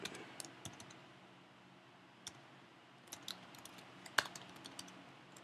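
Code being typed on a computer keyboard for a C++ program, sparse quiet keystrokes and clicks in short bursts with gaps, close and soft, no talking.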